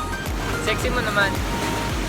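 Ocean surf washes onto the beach at Baler with a steady broad roar and low rumble, under people chatting and calling out near the water.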